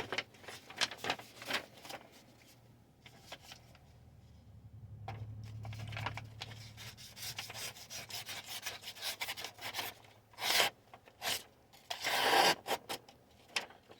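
A regular steak knife sawing through food in a cutting test: a soft rasping rub runs in repeated strokes, with louder scraping bursts near the end, close and quiet, with no talk.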